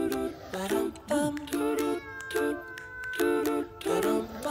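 A house cat meows repeatedly at close range, a series of clear, pitched, wavering calls in an uneven rhythm with short gaps between them.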